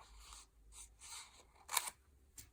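Scissors cut paper while trimming a handmade card, giving a handful of quiet, crisp snips in uneven bursts, the last two sharper and brighter, with no voices.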